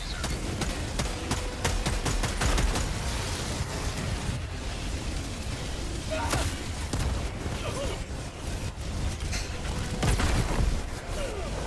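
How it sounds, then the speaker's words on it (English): Orbital laser strike in the shooter Helldivers 2: a dense, continuous roaring blast with crackling bursts and rumbling booms through the whole stretch, loud and unbroken. "Inbound. Orbital laser."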